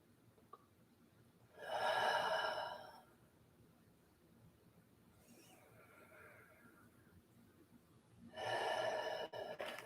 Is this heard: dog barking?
no